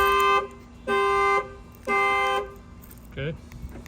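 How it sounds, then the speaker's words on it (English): A Buick Enclave's factory shock-sensor alarm sounds close and loud in three long repeated tonal blasts, each about half a second, followed by a short rising chirp. "it's going to set off the alarm."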